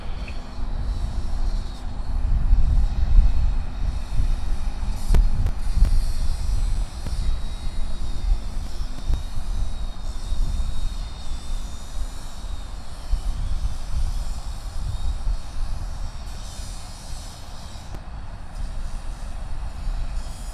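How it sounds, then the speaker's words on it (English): A Qantas airliner lands on the opposite runway at Sydney Airport, a sustained distant jet engine roar that swells and fades gradually over twenty seconds, with a low broadband rumble throughout. "The one plane I've been waiting for all morning comes in on the opposite runway"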